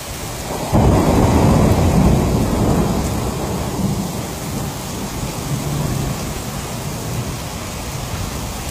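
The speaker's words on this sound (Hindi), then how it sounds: "सऊदी अरब जिद्दा के कई शहरों में तूफानी बारिश और बिजली की चमक" A thunderstorm with heavy rain in Jeddah, Saudi Arabia: a sudden loud thunder crack and rolling rumble over a continuous hiss of heavy rain falling on surfaces.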